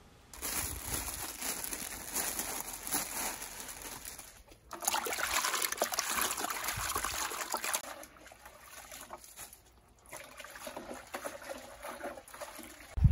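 Red shiso leaves are washed for pickling umeboshi, with running water trickling and splashing close by in uneven bursts, pausing briefly between rinses, and leaves rustling in the water.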